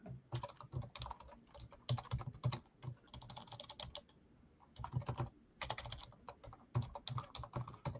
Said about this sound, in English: this damn keyboard